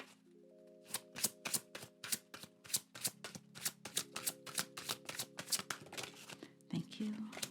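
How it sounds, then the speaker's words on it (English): Two decks of cards shuffled by hand, a quick run of crisp riffling bursts repeated in steady rhythm under a low background hum, close and fairly quiet. "they want me to shuffle from both decks that are left here"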